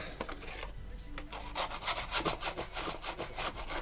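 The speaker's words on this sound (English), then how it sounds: "So I'll give it a bit of a scrape off with my scraper." A hand scraper rasps debris off a Mountfield lawnmower in a rapid series of rhythmic back-and-forth strokes, close and fairly loud, with no voices.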